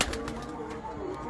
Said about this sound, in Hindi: ये बहुत अच्छा कबूतर है, ये इसको चांस दो।